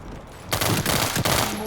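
Rapid gunfire from the online shooter World War 3, a loud fusillade of close shots starting after a brief quiet and continuing in quick bursts with a short break near the end.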